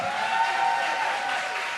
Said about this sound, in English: Won't you clap it up for them?